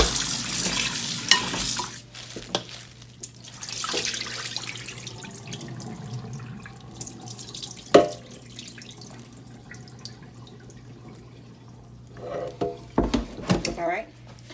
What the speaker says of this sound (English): use the faucet water and just give it a quick rinse